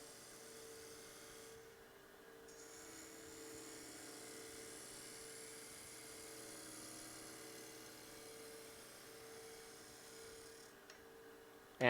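A wood lathe turns a wooden vessel while a gouge takes light cuts, giving off a steady whirring, humming drone with a faint high whine, continuous and even throughout with no talking.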